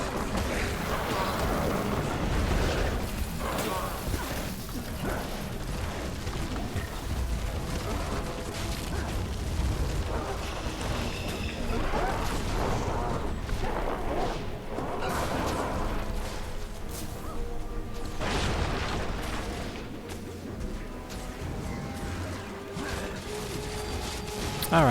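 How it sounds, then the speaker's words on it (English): Repeated explosion booms in the online game Guild Wars 2 during a big group fight in Silverwastes, dense overlapping blasts and clanks running continuously at steady loudness throughout. "Look at all those booms."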